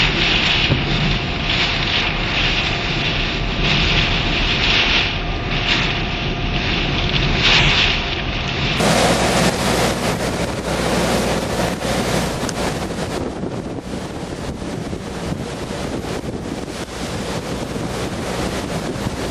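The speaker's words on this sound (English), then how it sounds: "We are getting into the eye wall of Hurricane Gene right now." Hurricane Jeanne's eye wall in 2004, in a wide open hospital parking lot, brings a loud, continuous roar of wind buffeting the microphone, with a sharp change in the gusting rush partway through and no voices.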